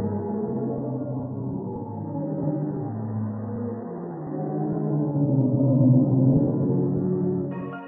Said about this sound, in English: a deep alien drone.